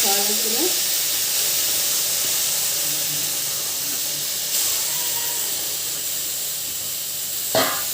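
Spinach and fenugreek leaves fry in oil for a chutney, giving a steady bright hiss and sizzle throughout, with a brief clink of a utensil near the end.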